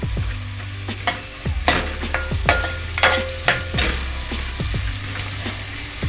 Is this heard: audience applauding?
no